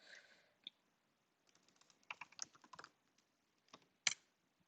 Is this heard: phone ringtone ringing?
no